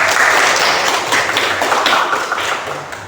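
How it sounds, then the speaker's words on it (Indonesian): Loud applause in a school classroom, students clapping densely at close range before it tapers off toward the end. "tepuk tangan"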